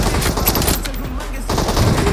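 Automatic gunfire in the mobile battle royale game BGMI, a loud sustained burst of rapid shots that dominates throughout, with a brief lull midway before the firing resumes.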